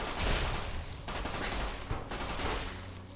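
A gun fires in Fallout: New Vegas in a rapid stream of loud shots, close and sustained throughout, with a slight dip and another burst near the end.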